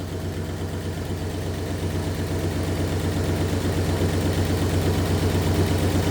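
A 1964 Oldsmobile 394 V8 idles steadily, its low rumbling drone holding even and continuous with a slight rise in level partway through, close to the engine with no talking.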